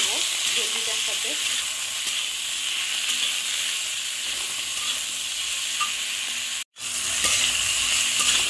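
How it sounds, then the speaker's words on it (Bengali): Okra stir-frying in a pan with salt and turmeric powder, giving a continuous loud hiss and sizzle with light stirring scrapes, briefly cutting out near the end before resuming. "হলুদের গুঁড়ো দিয়ে এটাকে ভালো করে একটু কষিয়ে নেব ভেন্ডিটার সাথে"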